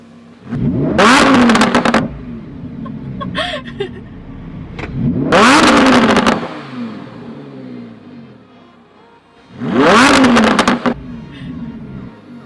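A 2015 Lamborghini Huracan LP 610-4 engine revs hard three times in sport mode, each loud roaring burst lasting about a second with quieter idling between.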